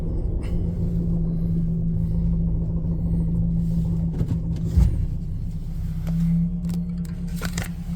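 Low, steady rumble of a 2010 Nissan Cube engine while driving, with a constant drone and occasional light clicks and rattles; no talking.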